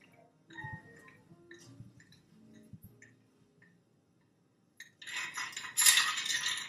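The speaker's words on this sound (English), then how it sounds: "Stir slowly." A Manhattan cocktail is stirred slowly with a bar spoon at a Milan bar, producing light, scattered clinks and ticks of ice against glass, then a louder rushing, splashing wash near the end.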